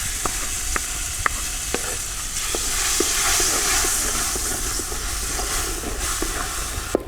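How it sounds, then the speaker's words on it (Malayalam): Jackfruit pulp paste sautéing in ghee in a pan for chakka pradhaman, a steady close sizzle and hiss with sharp spoon taps and scrapes at irregular intervals, no voices. "ഈ ചക്കച്ചുള നമുക്ക് ഇതിലേക്കിട്ട് ഒന്ന് നൈസായിട്ടൊന്ന് വഴറ്റിയെടുക്കുക"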